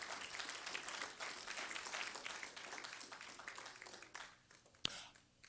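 A church congregation breaks into sustained applause during a sermon, a dense wash of many hands clapping that holds steady for several seconds, then thins out, ending with one sharp isolated clap.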